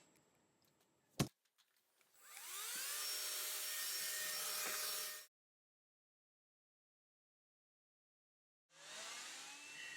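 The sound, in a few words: Electrolux Ergorapido Ultra+ vacuum cleaner running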